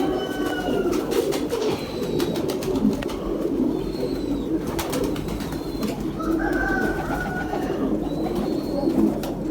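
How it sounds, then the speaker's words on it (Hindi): Sialkoti pigeons coo repeatedly in low, throaty calls, with a few brief higher bird chirps mixed in over a steady background hum. "अब ये बटेरा कबूतर है, ये देखें ज़रा,"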